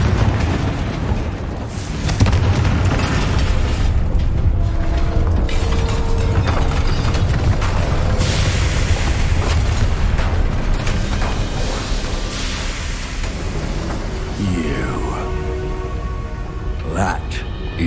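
A Confringo fire spell exploding in Hogwarts Legacy, played on hard difficulty, a dense roaring blast that rumbles on for many seconds with crackling debris, loud and full, with a few sharp whooshing streaks near the end.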